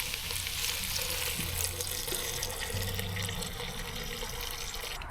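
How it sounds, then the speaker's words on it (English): Fish stock being poured into a pot of fish chowder, a steady close wash of running liquid with a soft underlying sizzle, no voices. "start adding our fish stock."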